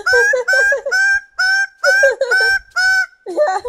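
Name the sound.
bird calling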